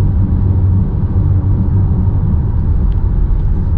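A 2019 Dodge Charger rounds a curve at 50 mph, heard from inside as a steady, loud low road rumble and engine drone that holds constant with no talking.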